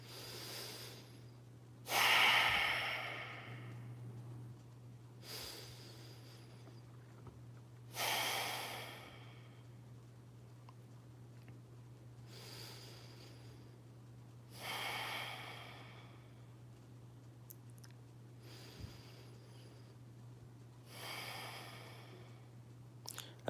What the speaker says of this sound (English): some deep breaths